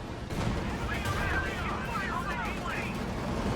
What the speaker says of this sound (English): White phosphorus barrage getting called in right on top of everything